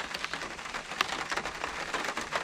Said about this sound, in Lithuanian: Lietus lyja, saulė šviečia